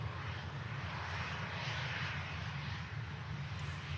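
An Aer Lingus ATR 72-600 turboprop taxis at Manchester Airport, a steady distant engine drone and broad roar holding evenly throughout.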